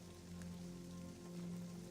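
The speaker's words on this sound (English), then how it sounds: "The rain makes the air refreshing, warm, and tropical." Warm tropical monsoon rain falls in a steady, even patter over a surface, soft and continuous throughout.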